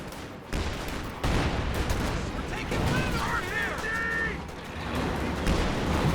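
Raketenwerfer anti-tank gun shots in a Company of Heroes 2 match, sharp booms cutting through dense battlefield gunfire and explosions while a commentator talks over the din.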